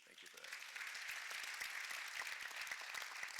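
An audience claps after commentary at a sports, race and equality panel, with faint applause rising quickly and staying steady and dense throughout.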